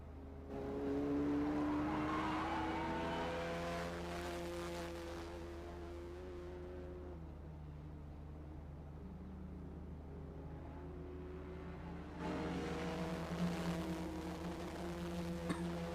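Polo Cup India race cars circle the track, engines rising and falling as they pass, loud at first, fading to a distant drone, then swelling again near the end.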